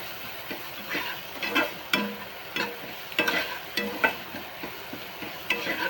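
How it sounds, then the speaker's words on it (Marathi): Salted onions for kande pohe fry in a pan while a spatula stirs them in irregular scraping strokes over a low sizzle, close and moderately loud, with no one speaking. "कांदा चांगला भाजून घेऊया लाल."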